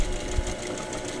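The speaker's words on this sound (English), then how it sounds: "and then we keep sewing." A sewing machine runs steadily for just over a second, stitching a square fabric patch backed with interfacing on a curve, its fast even motor whir close and continuous with a single soft knock partway through.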